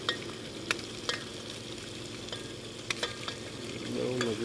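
Pasta being stirred in a small pot while it fries and sizzles, with sharp spoon scrapes and clicks over a steady hiss, and a faint tonal hum rising near the end.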